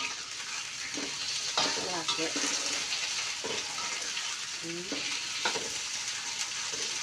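Spices for a shrimp stir-fry sizzle steadily in a hot pan, with spatula stirring and scraping popping out every second or so while a voice briefly speaks.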